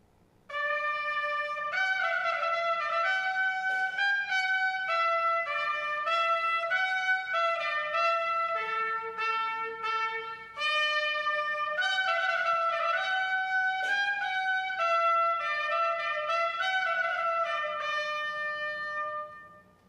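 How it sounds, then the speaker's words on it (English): A bright, high-pitched piccolo trumpet plays a lively melody of crisp, ringing notes, loud and close, with brief pauses between phrases and no voices. "That is called a piccolo trumpet, and it sounds like this."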